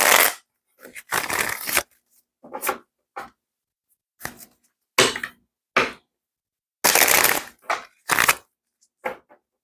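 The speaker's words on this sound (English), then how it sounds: "Feels really difficult for me to shuffle these cards right now." Tarot cards shuffled by hand in a series of separate, crisp bursts of riffling and slapping, close and fairly loud, with short silent gaps between them and no talk.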